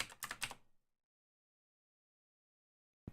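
Quick burst of computer keyboard key presses during a drawing session, several close clicks in the first moment, then near silence with one short tap at the very end.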